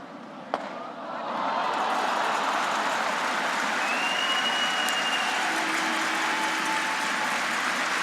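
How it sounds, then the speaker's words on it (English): A curling arena crowd at the Mary Brown Center applauds a shot, a steady wash of clapping that swells after a sharp knock and holds evenly, with faint squeaks and tones over it. "it's applause for a shot made by another team"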